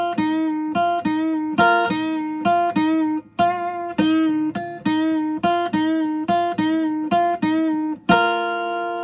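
An electric guitar plays a melodic lick of repeated picked notes with bends, ending on a held note with vibrato, loud and close.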